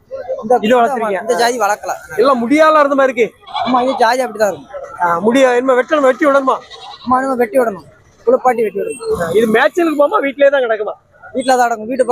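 Goats bleating repeatedly in rapid overlapping calls at the Melapalayam goat market on a Monday, loud and close, with people talking among the animals.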